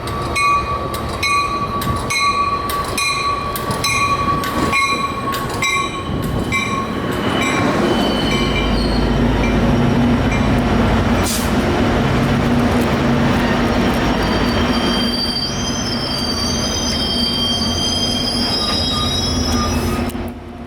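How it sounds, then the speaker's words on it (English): A commuter train of Bombardier multi-level coaches pulls into Solana Beach station bound for San Diego, wheels squealing loudly and continuously over a rumbling, clattering roll with rising high-pitched screeches near the end. "Today's train is comprised of several Bombardier multi-level coaches and a very special engine pulling our train today to San Diego."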